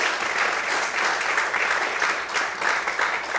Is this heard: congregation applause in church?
yes